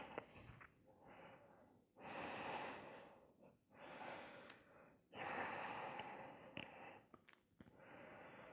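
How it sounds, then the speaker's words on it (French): Ujjayi yoga breathing in a shoulder stand posture, slow audible inhales and exhales with a soft oceanic hiss, several long breath cycles alternating with brief pauses, close and quiet. "8 cycles de respiration Ujjayi au moins dans cette posture de la chandelle."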